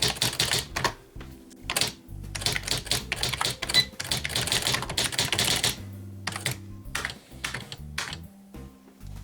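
A Smith Corona typewriter types onto toilet paper with rapid, irregular mechanical key strikes and clacks, close and loud, including a couple of heavier carriage thumps partway through.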